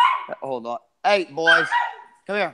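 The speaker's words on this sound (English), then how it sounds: "oh, there goes the dog" Several dogs barking in short bursts indoors, loud and close, mixed with someone speaking to them between the barks.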